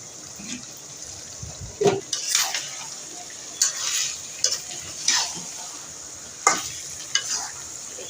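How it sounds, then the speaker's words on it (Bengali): Dal and meat are stir-fried with spices in a pan, giving a steady sizzle broken by repeated spatula scrapes and clinks against the metal, close and fairly loud. "তো এই ডালটাকেও এখন আমি কষিয়ে নেব কতক্ষণ"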